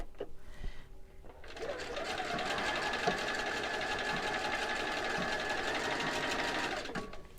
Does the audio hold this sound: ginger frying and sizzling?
no